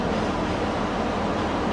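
An Abukuma Railway 8100 series train pulls into Sendai station, a continuous low rumble and hiss of the arriving cars with no voices.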